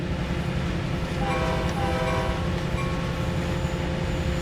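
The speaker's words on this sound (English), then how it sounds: "Remember, it's America, so we have to honk our horn for every railway crossing." CalTrain MP15DC locomotive in Train Sim World on the Peninsula Corridor, sounding a sustained tonal horn blast over a constant low engine and rail rumble, loud and close, with no talking.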